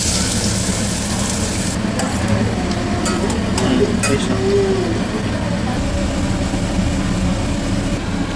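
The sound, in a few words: radish frying and being stirred in oil in a pan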